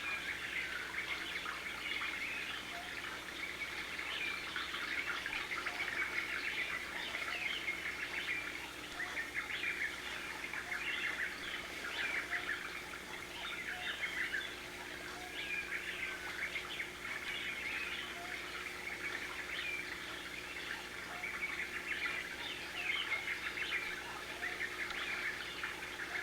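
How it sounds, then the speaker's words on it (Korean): Songbirds chirp and sing in the pastoral countryside around Stratford, with a steady, dense chorus of bright, overlapping calls against a constant hiss of background ambience, moderately distant and without speech. "지저귀는 새의 울음소리가 귓가에 들려오는"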